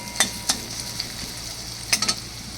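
Chicken pieces frying with onion paste and a little turmeric in a pan, a soft continuous sizzle broken by a few sharp spoon scrapes and clanks as the meat is stirred.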